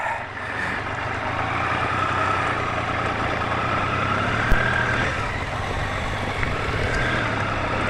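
A Triumph Thunderbird triple motorcycle engine runs steadily at a low idle nearby, giving a continuous throaty rumble with one brief knock partway through.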